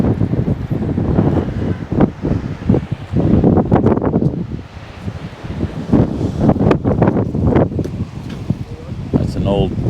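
Wind buffeting a microphone outdoors at a classic car show and swap meet, rumbling in uneven gusts throughout while people talk nearby.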